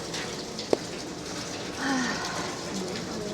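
Steady rain falls outside a home on a rainy-season day in the Philippines, a soft even wash with a single sharp drip or tap and a faint bird call.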